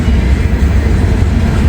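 Freight train rolling past in fog in Kentucky and gathering speed, a steady loud low rumble of wheels and cars on rail continuing throughout, with no voices.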